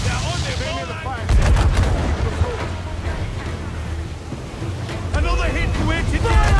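Naval battle in Assassin's Creed 4: Black Flag with enemy cannon fire at sea, heavy booms and rumbling blasts over wind and waves, with shouted voices from the crew in between.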